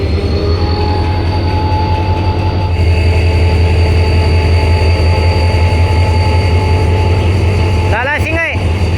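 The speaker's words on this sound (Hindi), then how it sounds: "तो 8228 HGMU 30R के साथ 48 डाउन रहमान बाबा एक्सप्रेस डिपार्ट कर रही है।" Rahman Baba Express departing behind an HGMU 30R locomotive, with a loud, steady low rumble and rolling wheel noise throughout and sharp wheel squeals near the end.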